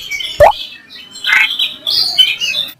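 A cartoon sparrow gives several short, bright chirps and tweets, close and clear, in quick irregular bursts.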